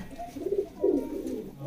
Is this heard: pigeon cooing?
yes